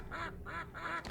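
Ducks quack in the shooter Killing Time: Resurrected, three evenly spaced nasal calls of similar loudness over a steady game backdrop, with no talk.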